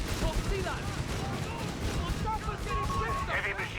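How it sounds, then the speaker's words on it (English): Continuous anti-aircraft flak fire in Company of Heroes 3, a dense, unbroken torrent of popping shots and distant booms filling a loud battle scene, with a commentator talking over it. "with the flak filling just laying down a never-ending torrent of flak fire"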